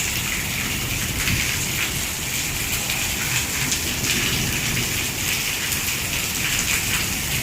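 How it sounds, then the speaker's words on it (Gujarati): Steady rain pours down during a sudden windstorm, a dense, continuous hiss of drops on surfaces that stays loud and even throughout, with no voices. "અચાનક વાવાઝોડા જેવું થયું ને વરસાદ આવ્યો"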